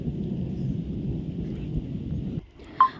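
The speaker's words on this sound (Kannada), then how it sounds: "ಬ್ಯಾಕ್ಗ್ರೌಂಡಲ್ಲಿ ನಿಮಗೆ ಕೇಳಿಸ್ತಿರ್ಬೋದು ಎಷ್ಟು ಗುಡುಗ್ತಿದೆ ಅಂತ" Morning thunder with no rain: a low, distant rolling rumble that fades out near the end, followed by a brief faint chirp.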